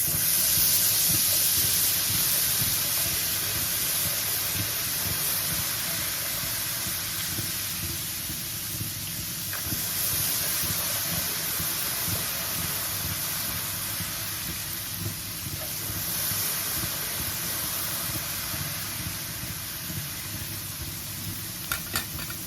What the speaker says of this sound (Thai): ตักแป้งขึ้นสูงๆ แล้วก็ค่อย ๆ หยอดลงมาค่ะ